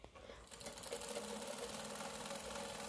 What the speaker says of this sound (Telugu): ఆ తర్వాత కిందకు మడిచి పైనుండి ఒక కుట్టు వేస్తున్నాను